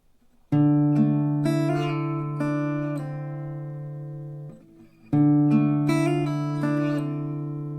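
Acoustic guitar notes ringing close, with quick hammer-ons and pull-offs fluttering between pitches, played twice with a short pause between phrases.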